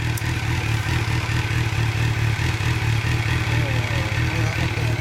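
A 2008 Suzuki Hayabusa GSX1300R sport motorcycle with a Yoshimura aftermarket exhaust idles loudly and steadily with a deep, throbbing low-end pulse, close by, with no voices.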